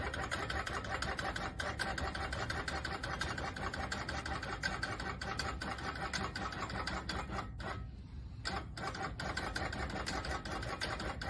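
A Janome Quilt Maker 18 quilting machine with Pro-Stitcher Lite stitches across a practice quilt, giving a steady, continuous motor whir and rapid needle clatter. The sound stays close and even throughout, with one brief dip, and no one talks.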